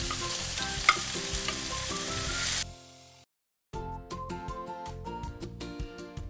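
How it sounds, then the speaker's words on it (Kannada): Finely chopped onions hit hot oil in a pan, an immediate loud, dense sizzle close by with stirring scrapes, cutting out briefly before the frying resumes. "ಎಣ್ಣೆ ಬಿಸಿಯಾಗಿದೆ. ಸೊ ಇವಾಗ ಸಣ್ಣದಾಗಿ ಹೆಚ್ಕೊಂಡಿರೋ ಆನಿಯನ್ಸ್ ಹಾಕ್ತಾಯಿದ್ದೀನಿ."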